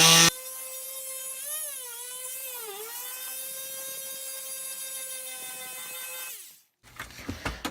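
A vibrating power sander smooths the wooden stock of a Lyman Great Plains muzzleloading rifle, giving a steady, loud motor whine for about six seconds that wavers slightly in pitch, then stops, followed by a few light knocks.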